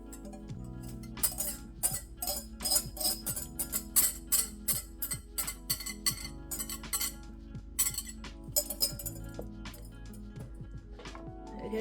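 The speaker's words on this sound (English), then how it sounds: "we're going to strain it just to get rid of any like bits of egg, any shell that might be in there" Thai tea kaya mixture of egg and tea being strained through a sieve, heard as a steady run of light metallic clinks and taps against a bowl, close and fairly quiet, with no talking.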